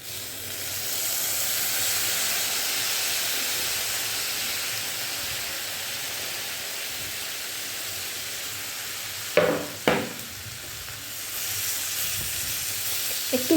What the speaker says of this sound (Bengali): এবার আমি এর মধ্যে টমেটোগুলো দিয়ে দিচ্ছি।